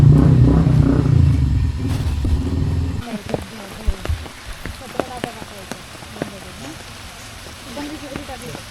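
Rain falls steadily with a dense rushing patter and a low vehicle rumble at first, then thins to lighter scattered drips and splashes on nearby surfaces.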